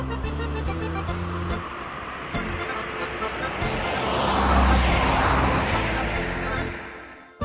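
Busy road traffic runs beside a canal, a continuous roar of passing cars swelling louder midway as a vehicle goes by close, then easing back.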